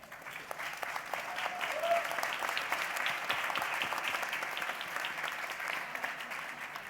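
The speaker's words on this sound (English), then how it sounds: "would you please join me in a big round of applause to them?" Sustained applause from a conference audience for startup panelists at an innovation summit stage, a dense steady wash of clapping at moderate level, with a brief whistle or cheer near the start.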